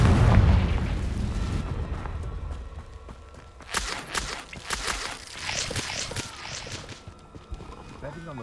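A Confringo fire spell bursts in Hogwarts Legacy, a heavy booming explosion up front followed by a scatter of crackling debris pops and rumbling blasts that trail off over several seconds.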